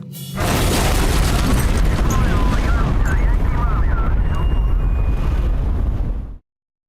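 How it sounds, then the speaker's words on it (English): A bomb blast tears through a busy town shopping area in Omagh, Northern Ireland: a sudden loud boom swells into a long, roaring, close rumble lasting several seconds, with faint cries or voices mixed in, before cutting off abruptly. "a massive explosion is about to rip through the heart of the bustling shopping area"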